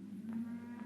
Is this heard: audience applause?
no